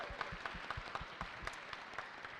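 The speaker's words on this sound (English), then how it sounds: "Give yourselves a round of applause." Soft, scattered applause from a small crowd, with individual claps popping out irregularly at a moderate distance.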